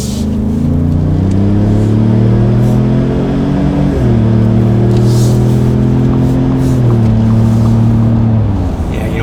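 Car fitted with an MBRP exhaust and a front resonator bypass pipe, revved from idle: a loud, close, steady drone that climbs and drops in pitch across several stepped throttle blips, with no voices.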